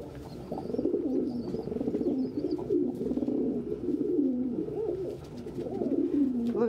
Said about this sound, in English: Oh my lord, a squeak fight